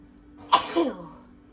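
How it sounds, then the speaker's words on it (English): A single close, sudden sneeze with a sharp burst and a short trailing exhale, isolated against a quiet room. "I'm gonna sneeze again"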